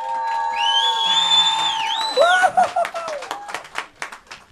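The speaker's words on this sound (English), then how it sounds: "A big round of applause, please." A studio audience claps and whoops for a band during a radio studio session, with high whistle-like cheers up front and scattered handclaps toward the end, fairly loud and close.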